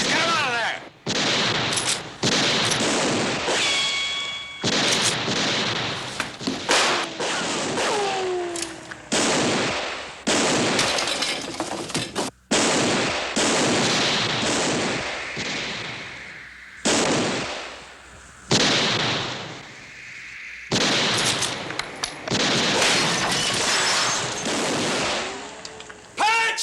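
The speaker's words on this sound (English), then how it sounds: "Keep firing, boys!" Several guns fire in a Western shootout, loud overlapping shots and ricochets in dense volleys, with brief pauses between bursts and shouted voices mixed in.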